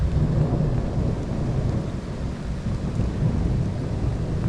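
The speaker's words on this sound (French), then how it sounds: "Il y avait un éclair, ça a fait boum très fort." A loud, deep thunder boom from a lightning strike rolls through a steady downpour in a violent storm in Liège, Belgium, the rumble lingering over the constant hiss of rain.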